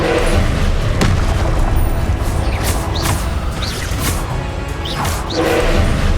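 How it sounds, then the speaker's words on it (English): A spell cast in the Hogwarts Legacy video game gives loud magical whooshes and booming impacts. Several swishing bursts rise and cut through a dense, continuous game soundscape. "Expelliarmus!"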